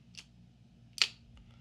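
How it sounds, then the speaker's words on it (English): The bail of a Shimano Nasci spinning fishing reel flips over with two soft, short clicks, the second sharper, close and quiet against a faint low hum. "Let's hear the bail now."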